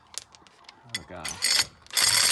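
A ratchet socket wrench works car lug nuts on a Subaru WRX wheel hub, with quick clicking pawl bursts followed by louder, harsher ratcheting runs close by, with a voice speaking briefly.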